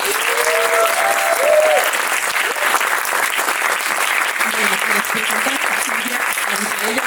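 Applause from an audience at a screenwriting tribute event, a loud, sustained wash of clapping that continues throughout while voices briefly call out over it.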